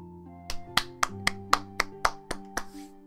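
A single pair of hands claps about nine times in quick, even succession, crisp and close, over a steady low tonal hum.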